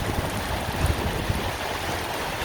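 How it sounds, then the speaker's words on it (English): A heavy spring-summer rain shower falls outdoors, making a constant dense hiss with soft, uneven low patter underneath. "quite a nice spring summer shower. I think it's more than a shower, this one."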